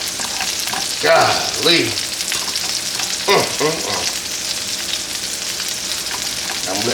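Onions frying in a pan for smash burgers, a steady close sizzle running throughout with a few louder stirring scrapes, and a brief spoken exclamation.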